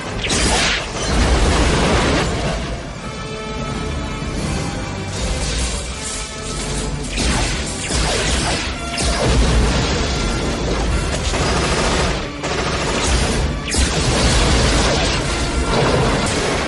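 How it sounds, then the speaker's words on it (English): Railgun shots and explosions in Shadow Warrior, dense loud booms, crashes and whooshes layered almost continuously, with brief dips between heavy blasts. "The railgun."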